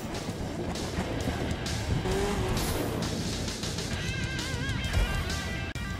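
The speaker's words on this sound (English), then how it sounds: "They're going to finish up with some donuts." Monster truck doing donuts in the Monster Jam Steel Titans video game, a loud continuous engine roar with squealing, skidding tires and rising revs throughout, without speech.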